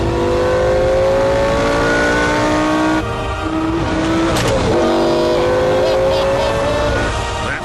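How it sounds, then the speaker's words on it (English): A Lamborghini Gallardo's 5-litre V10 revs and climbs through gears, loud rising engine tones that dip at a shift and climb again, close up with a brief squeal-like burst midway. "The sound of a 5-litre V10 engine."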